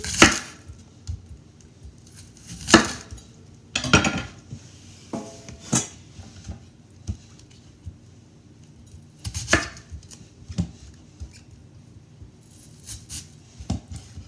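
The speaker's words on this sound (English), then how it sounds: "Okay, so I'm going to cut my onion." A kitchen knife chops an onion on a board, with sharp, irregular knocks spaced a few seconds apart and some quieter taps between them, close and clear with no talking.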